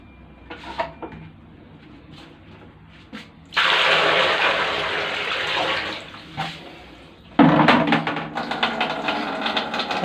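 Water gushes into a clogged toilet bowl in two loud bursts, separated by quieter handling clatter and knocks.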